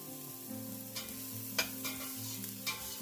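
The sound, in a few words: sautéing in a pan for bolognese sauce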